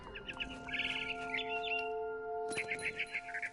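A barn swallow chirps in What Remains of Edith Finch, bright quick twittering bursts over a soft sustained musical drone, the calls repeating near and clear with no talk.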